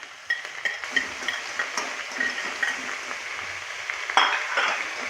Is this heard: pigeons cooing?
no